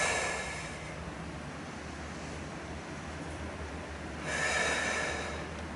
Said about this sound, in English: Inhale in, exhale out.